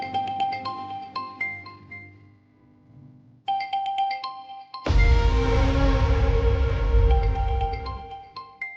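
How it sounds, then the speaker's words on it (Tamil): A mobile phone rings in a Tamil TV drama scene, a bright repeating melodic ringtone in short bursts, followed by a louder, fuller stretch of music. "என்ன ஃபோன் சவுண்ட் அடிக்குது?"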